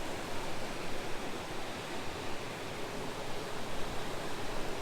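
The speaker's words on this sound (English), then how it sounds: "So I will be sleeping tonight to the sound of this waterfall." A waterfall beside a campsite near Beaver Bay, Minnesota, giving a steady, broad rushing roar of falling water that stays constant and moderately loud throughout, with no voices.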